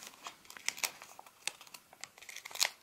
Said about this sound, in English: fold it back forward again onto itself